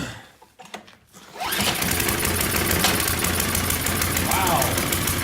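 A small engine treated with STABIL fires up after about 30 minutes, with choke fully on; after a few quiet seconds it catches and settles into a steady, close, rapid mechanical chatter that continues to the end.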